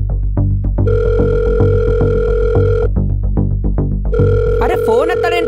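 A telephone rings in two long, loud bursts of steady electronic tone over a pulsing, throbbing backing, with a rising warble at the end.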